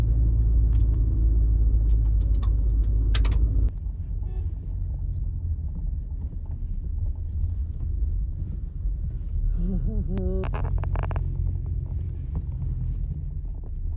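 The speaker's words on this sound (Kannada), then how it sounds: "ಗಾಡಿ ಗಾಡಿ ಬರ್ತಾವೆ" Vehicle engines rumble along a high mountain road in Spiti Valley, Himachal Pradesh, a steady low drone under strong wind buffeting the microphone, with a brief higher whine near the end.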